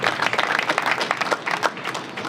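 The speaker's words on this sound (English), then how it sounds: "give claps and all that for the fighters" Applause and clapping from an audience at a rooftop boxing press conference, greeting the fighters; a dense, steady burst of many hands close by, without speech.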